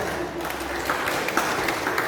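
A church congregation at a worship service claps together, a moderate steady wash of many hands, fairly close and without speech.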